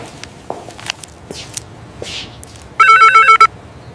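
A phone rings on an outgoing call, a loud electronic ringback burst of about half a second coming in after faint footsteps and shuffling indoors, with no talk.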